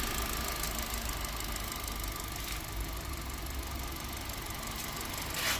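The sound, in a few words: Hyundai i20 car engine idling after service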